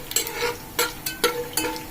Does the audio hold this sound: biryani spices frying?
yes